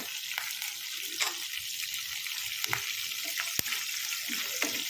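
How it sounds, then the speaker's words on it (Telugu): Spices sizzle and crackle steadily in hot oil for a tempering, with occasional sharper pops and stirring, close and moderately loud, made while preparing an ivy gourd and sesame chutney. "అది అయిన తర్వాత, వేగిన తర్వాత ఇంగు వేసుకోవాలండి."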